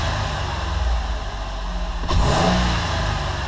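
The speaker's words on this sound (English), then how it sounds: "We do a snap throttle, and it should rev up immediately." A 2002 Ford Windstar LX engine, just fitted with a new fuel pump, idles close by, then revs sharply on a snap throttle and settles back to a steady run.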